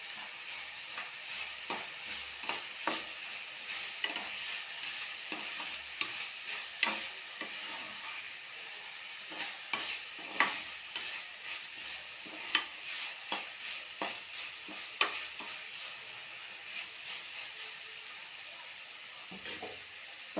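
Curry leaves sizzle and crackle in hot oil for a kuruma while a spoon scrapes and stirs the pan in repeated sharp strokes, a steady frying hiss underneath, no voices.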